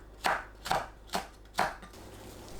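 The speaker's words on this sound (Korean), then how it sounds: "파, 청양고추를 둥글게 썰어줍니다." A kitchen knife slices green onion and cheongyang chili into rounds on a cutting board, four distinct close, crisp chops at an even pace, then quiet.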